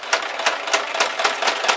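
A sewing machine stitching through a small paper Valentine's Day tag, its needle punching in a quick, even rhythm of roughly five strokes a second, close and steady for under two seconds.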